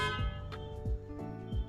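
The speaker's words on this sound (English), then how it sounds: "there is a car honking the horn." A car horn sounds in short repeated honks, somewhat muffled and distant, layered over a steady tonal background.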